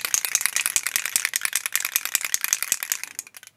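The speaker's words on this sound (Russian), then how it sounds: "в этом баллончике есть шарик" Aerosol can of Axiom dry PTFE lubricant shaken hard, its mixing ball rattling inside in a fast, steady, loud series of metallic clacks that runs through the clip.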